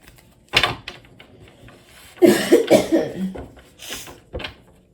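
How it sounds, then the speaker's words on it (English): A brief cough, then a harsher burst of several chesty coughs, followed by a softer final cough; fairly close. "there will be coughing and stuff like that"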